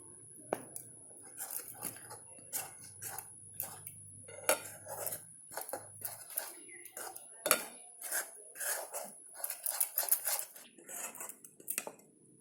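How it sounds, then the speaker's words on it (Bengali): A spoon scrapes and clinks against a wok while rice flour dough is stirred and mixed, a steady run of soft metallic scraping strokes, fairly quiet, with a faint high whine in the background. "চালের গুঁড়োটা কালের পালের সঙ্গে ভালো করে এরকম করে মেশাতে হবে যতক্ষণ না কড়াইয়ের থেকে ছেড়ে আসি"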